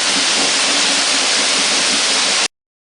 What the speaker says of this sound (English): The roar of waterfalls in the background and all around.